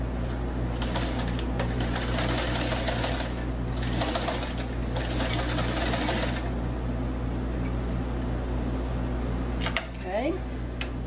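An old sewing machine stitches fabric with a steady, continuous mechanical hum and rapid needle clatter that runs loud and close, easing off near the end, while a person talks over it.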